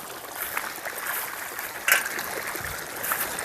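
Irrigation water runs steadily through a chili field on a farm, a soft continuous trickle and stream sound with a brief louder splash midway, outdoors and fairly close.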